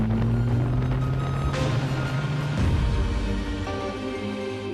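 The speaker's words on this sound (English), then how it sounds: "The sound of that naturally aspirated V8 in this forest, it's got bee vibes all over it." An Ariel Nomad 2 with a naturally aspirated V8 driving through a forest, its engine note rising and falling in tone as it revs, a steady, fairly loud drone with no speech.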